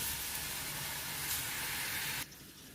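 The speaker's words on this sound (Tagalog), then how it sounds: "I'm going to put my cabbage first kasi matagal siyang maluto." Cabbage sizzles and hisses in a hot pan for sotanghon guisado, a steady close frying sound that cuts off abruptly near the end.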